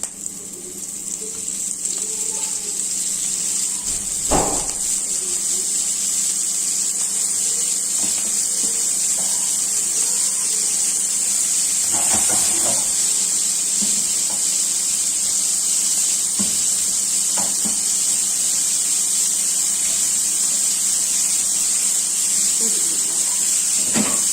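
Kofta meatballs sizzling in a pan with a spoonful of oil: a steady bright hiss fills the stretch, with occasional clinks and knocks of utensils against the pan.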